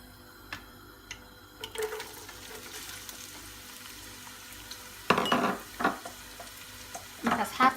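Onions fry in oil in a cooking pot for lamb kalamuudo, a soft sizzle underneath with several louder stirring scrapes and clatters coming in bursts.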